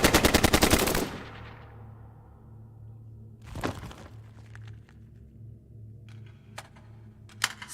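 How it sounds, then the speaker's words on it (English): Automatic gunfire from hostile fighters in an audio drama battle scene: a loud, rapid machine-gun burst opens, followed by further distant shots and a low rumbling bed, with occasional sharp single reports. "More hostiles opening fire."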